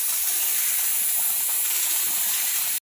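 Pressure cooker whistle on a stove while lentils cook, a steady loud hiss of escaping steam that runs for a few seconds and then cuts off abruptly.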